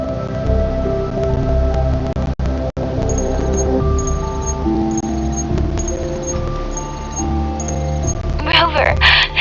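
Steady rain falls in the video game Wuthering Waves as a continuous wash of drops, layered under sustained musical tones throughout, with a brief burst of brighter activity near the end.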